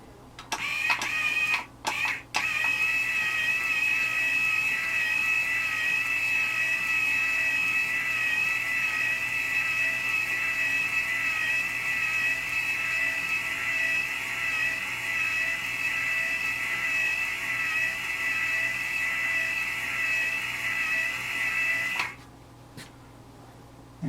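A Tesla coil winding machine turns steadily as it winds wire onto a coil form, giving a continuous whirring motor drone with a faint high whine that holds for about twenty seconds and then stops, after a few brief clicks at the start.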